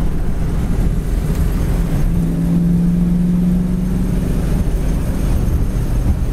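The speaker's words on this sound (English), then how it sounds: "This is a great driving Mustang, guys." A 1966 Ford Mustang cruises along a road, its engine a steady low hum under continuous road and wind rumble, with a brief tonal drone partway through and no talking.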